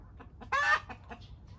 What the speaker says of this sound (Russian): Это куры породы араукан.